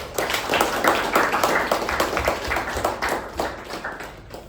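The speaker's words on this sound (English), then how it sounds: "Let's give a big round of applause to all the 4 people." A room of meeting attendees claps for four role takers, a steady crowd applause spread across the whole stretch with no speech over it.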